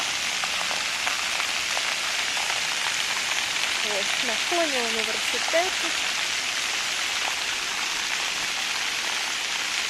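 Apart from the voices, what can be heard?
water splashing from a city fountain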